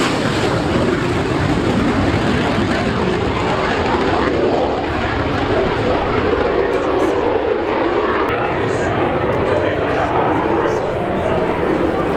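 An RAAF Hawk 127 jet flies an aerobatic display at the Avalon Airshow 2017, its engine a loud, steady, broadband roar that holds without a break from start to finish.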